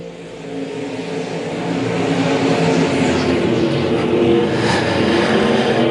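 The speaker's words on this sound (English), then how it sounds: "Green flag waves. We're back racing tonight." Stock cars racing off the green flag at a speedway, a loud dense roar of many engines that swells as the pack accelerates, with no talking.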